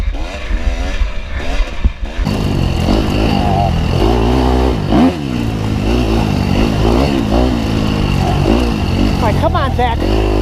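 Dirt bike engine revving hard on the throttle during a motocross race, loud and continuous with rising and falling pitch, someone talking over it at times.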